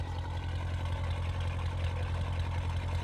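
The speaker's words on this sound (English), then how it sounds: "the exhaust system is by Mansory, and the car is louder, way louder than the stock car" A Mansory exhaust on an Aston Martin DBX idles with a steady, deep, loud rumble that holds constant throughout, with no talking over it.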